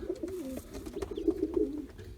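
Pigeons or doves on a loft floor among newly banded young birds, cooing in soft repeated low throaty phrases that run continuously at close range, with no talking.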